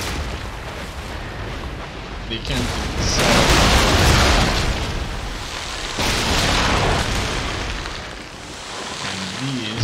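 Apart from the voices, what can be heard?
cannon fire in the video game Empire: Total War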